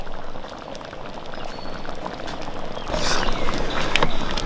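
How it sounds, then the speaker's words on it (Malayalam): Milk and tapioca mixture boiling in a pot gives a steady, close bubbling and popping that grows louder and busier toward the end, with no talking. "അത് നല്ലപോലെ ഒന്ന് തിളച്ച് വരട്ടെ."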